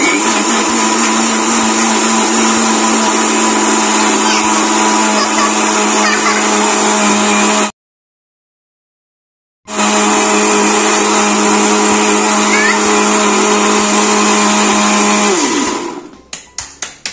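A kitchen blender grinding mango milkshake, a loud, steady high whine that cuts out for about two seconds, then runs again before winding down near the end.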